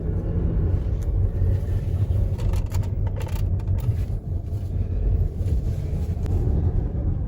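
A minivan driving on the road, heard from inside the cabin as a steady low engine and road rumble with faint wind noise, continuous and without talk.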